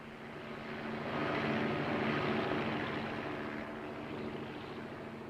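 A helicopter's steady, droning roar swells louder, then eases slightly while staying present throughout, with no voices.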